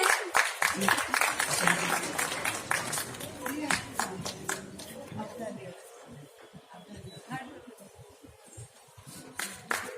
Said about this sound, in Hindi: बहुत जोरदार तालियां हो जाए।